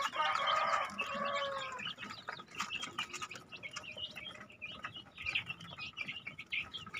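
Chickens cluck and call steadily in a simple breeding coop holding about 17 birds, with a brief rooster-like call near the start over continuous close-up flock chatter.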